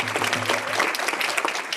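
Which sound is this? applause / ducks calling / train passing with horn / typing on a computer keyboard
applause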